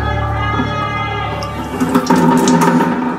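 Running tap water splashing nearby as a cut egg is rinsed, a steady stream that grows louder and more spattery toward the end.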